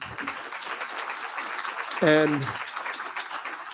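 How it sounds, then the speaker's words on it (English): Applause from a community meeting audience for the panelists, a broad wash of clapping throughout with a brief spoken word cutting in partway through. "Can we give 2 rounds of applause to Emily and to our panelists?"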